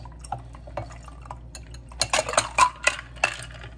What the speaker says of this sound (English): We're going to pour that inside our glass.